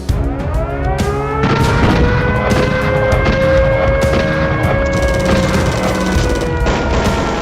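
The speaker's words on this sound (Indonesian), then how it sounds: "Setelah melakukan tembakan mitraliur penanda pembuka serangan" Machine gun fire and explosions in a battle during the Battle of Ambarawa, with dense, continuous rattling bursts and booms layered with tonal ringing, loud and sustained throughout without speech.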